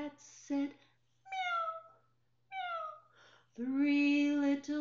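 Cats meow two drawn-out, downward-sliding times, close and clear, between bursts of a voice speaking in a children's story.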